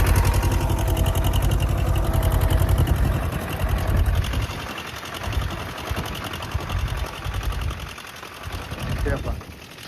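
A tractor working in a field with a sensing hydraulic implement gives a loud, close, rhythmic engine chug that varies in load, while someone talks over it.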